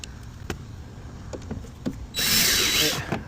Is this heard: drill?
yes